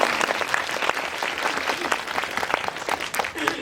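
Steady audience applause at a Seoul movie talk event for the film 12.12: The Day, dense clapping filling the room with no voices on top, holding at an even level throughout.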